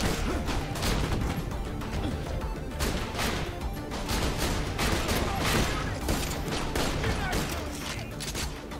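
Gunfire in the game Borderlands: The Pre-Sequel: a dense, continuous barrage of shots and impacts, loud and busy throughout, with some voices under the noise.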